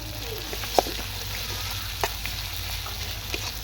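Ground spices such as turmeric, coriander, cumin and poppy-seed paste fry with salt in a pan. The sizzle stays steady and moderately close, with a few sharp clinks of stirring.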